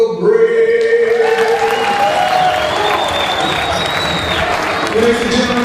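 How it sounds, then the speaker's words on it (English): A crowd in a gym at a girls basketball game breaks into loud, sustained applause and cheering that carries on steadily throughout. "Let's give Paul a big round of applause."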